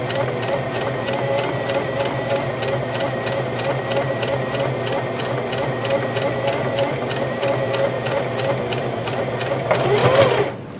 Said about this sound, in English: Now I'm going to sew. And look how slow I'm going.